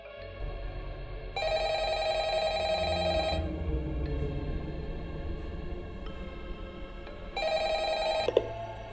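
A telephone ringing while a call is placed to the police, two bursts of bright electronic ringing separated by a quiet stretch with faint background hiss.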